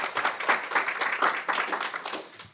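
A workshop audience at an SME finance event claps for a speaker, with fairly close hand claps in a steady, even rhythm lasting a couple of seconds.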